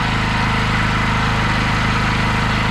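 A Hyundai HG2201 petrol power generator with AVR runs steadily close by, its engine giving an even, fairly quiet hum with a low throb that holds constant throughout, no voices.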